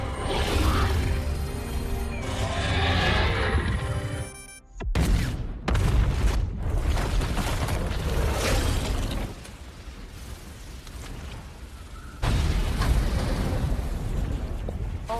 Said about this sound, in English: detonated Striker Eureka, making a very powerful explosion